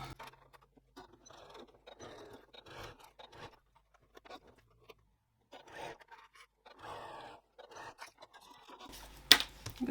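A sewing machine fitted with a zipper foot stitches fabric for a clamshell sling in short, quiet runs of mechanical whirring, separated by brief pauses and small handling noises.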